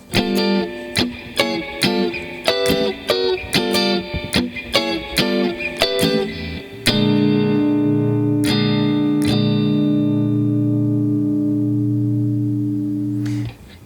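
Electric guitar plays choppy, syncopated funk chords in short bursts, then lets a final chord ring out and slowly fade; no talking.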